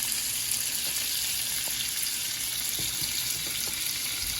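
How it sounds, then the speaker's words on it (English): Butter melting and sizzling in a hot pan before salmon is added, a steady close frying hiss with faint crackles and no talk. "Let this butter melt everywhere."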